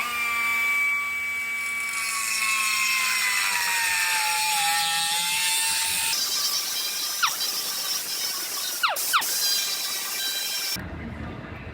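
A power cutter whines loudly and continuously through old scrap metal for a welding backer plate, its pitch dipping under load, then shifting tone with a few sharp ringing screeches before it stops abruptly.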